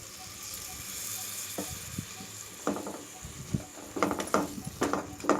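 Spice paste for a vegetarian Bengali jackfruit curry sizzles in a pan after water is added, a faint steady hiss with soft stirring scrapes and clinks growing busier toward the end.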